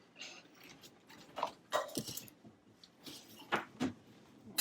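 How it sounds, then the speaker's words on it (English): Sugar, flour and cinnamon stirred together for an apple pie filling, a run of quiet scraping and clicking strokes at an irregular rhythm, faint and close. "Mix it all up."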